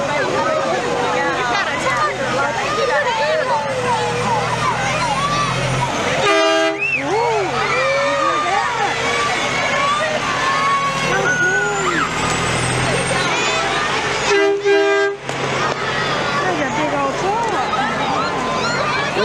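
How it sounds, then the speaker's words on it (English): A loud vehicle air horn blasts twice at a Christmas parade in Russellville, Alabama, amid a busy outdoor crowd, with traffic rumble and chatter throughout. "Just a regular air horn."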